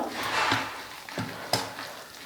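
Spicy paniyaram batter is stirred with sautéed ingredients and finely chopped coriander, giving soft, wet mixing swishes and a few sharper scrapes against the bowl, close up and alone.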